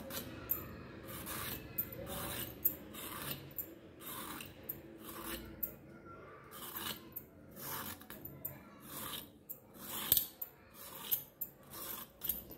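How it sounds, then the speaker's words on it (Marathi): Skin is peeled off a ridge gourd in a kitchen with quick, repeated rasping scrapes. The strokes are faint and close, and no one talks. "त्याच पद्धतीने आपल्याला ह्याची पण साल काढून घ्यायची."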